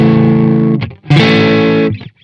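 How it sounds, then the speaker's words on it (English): PRS MT15 guitar amplifier on its clean channel with the boost engaged and volume near full, two loud distorted guitar chords ringing out and cut short, with a brief pause between them. "So that's what it sounds like on the clean channel with the boost and with the volume almost at full."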